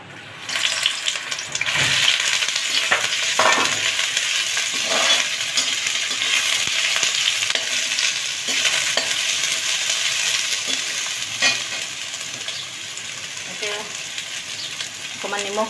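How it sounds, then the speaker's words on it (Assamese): Soybean chunks frying in hot mustard oil make a loud, steady sizzle that runs throughout, with occasional scraping and clinking from a stirring utensil against the pan. "এতিয়া মোৰ ইয়াতে মিঠাতেল দি লৈছোঁ, তেলখন গৰম হৈছে। ইয়াতে প্ৰথমে মই চয়াবিনখিনি ভাজি লওঁ।"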